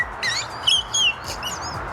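A boy imitates bird calls with his voice, producing a series of short, high whistled chirps and warbling notes in quick succession, close and clear.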